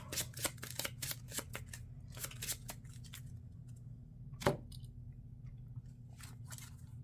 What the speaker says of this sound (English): I do have to shuffle this pile.